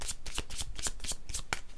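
A deck of tarot cards being shuffled by hand, a quick run of crisp riffling flicks, close and moderately quiet with no voice over it.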